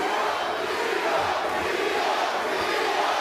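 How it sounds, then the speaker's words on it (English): Dense, steady roar of a boxing crowd at a Luis Alberto Lopez vs Angelo Leo fight in Albuquerque, cheering on hometown fighter Leo; a continuous loud wash of voices with no clear breaks. "You hear the crowd trying to support Angelo Leo, Albuquerque's very own"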